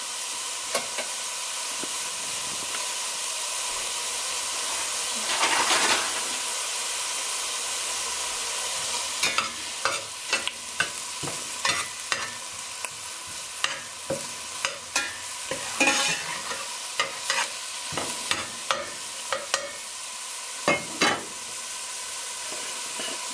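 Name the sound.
salted onions cooking and being stirred in pot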